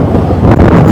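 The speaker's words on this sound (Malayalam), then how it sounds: "അപ്പൊ കാറ്റടിക്കുന്ന കേട്ടോ." Strong wind rushes and buffets loudly on board a moving Vande Bharat train, a dense, close roar with no voices.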